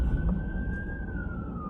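An emergency vehicle siren, a police car or fire engine, wails as one steady rising-and-falling tone over a low rumble of traffic and wind outdoors in Minot, North Dakota.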